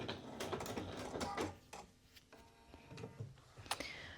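A home sewing machine back stitching at the top of a Kimball bomber jacket seam, a close mechanical whir and rapid ticking in short bursts with brief pauses between.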